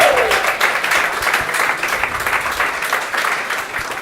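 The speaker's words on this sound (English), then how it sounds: "Clap it up for older women" A comedy club audience bursts into steady, full applause that holds for several seconds at a fairly close, even level, many hands blending into a continuous patter with no talk over it.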